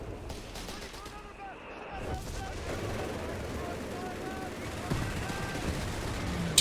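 Strafing gunfire in the Company of Heroes 3 strategy game, a sustained crackle of rapid shots and distant booms layered into a dense battle din that swells toward the end.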